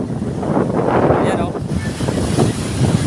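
Sea waves wash against the shore along Roxas Boulevard as a loud, continuous roar, heavily buffeted by wind on the microphone, with no clear talk.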